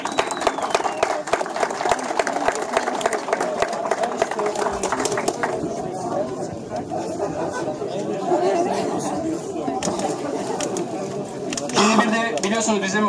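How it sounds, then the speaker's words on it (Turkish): An audience claps for a sponsor at a women's route-category award ceremony for the Uludağ performance climb in Bursa; the steady patter of many hands carries over crowd chatter and voices. "Evet, alkışlayalım"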